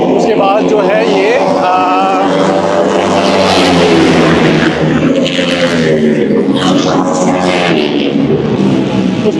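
Flat track racing motorcycles at a Georgian race roar loudly nearby with rising and falling engine whine, while someone talks over the din throughout.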